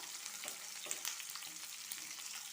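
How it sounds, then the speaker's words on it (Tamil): Cloves, bay leaf, dried red chillies, garlic and shallots being sautéed in a pan for a chicken dish: a soft, steady frying sizzle with light crackles and faint stirring scrapes, close and alone. "பத்து பூண்டு பல் பதினஞ்சு போல் சின்ன வெங்காயம் சேர்த்து வதக்கி விட்டுறலாம்"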